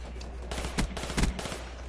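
Automatic weapon fire in Black Ops 3, a short rapid burst of close, sharp shots with a couple of louder bangs over two seconds.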